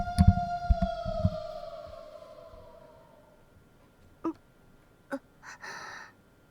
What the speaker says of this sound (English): Looks like the police sirens woke her up.